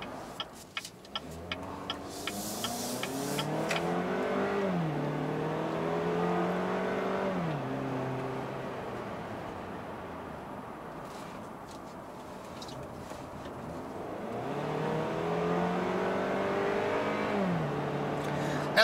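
A 2017 Buick Envision 2.0T with a 6-speed automatic accelerates hard, its engine note climbing, dropping sharply at each upshift, then rising again. The run is steady and close-up, and no one talks over it.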